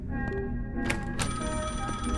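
Telephone ringing under dense background music, with thin tonal ring elements and a couple of sharp bursts, moderately loud and partly buried in the mix.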